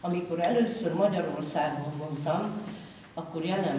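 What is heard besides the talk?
None of the usual background noises is heard.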